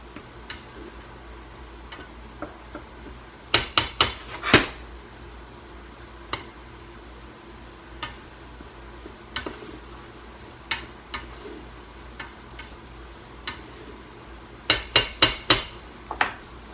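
Flour being stirred and cooked in a pan for beef stew gives sparse metallic taps and clinks of a utensil against the pan, some in quick clusters of three or four, over a quiet background.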